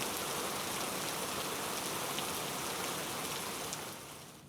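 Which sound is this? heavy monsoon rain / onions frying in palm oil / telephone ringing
heavy monsoon rain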